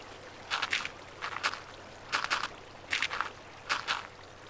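Water moving in the Minecraft video game, a series of five soft splashing, sloshing bursts at an even pace over a quiet background, with no talk.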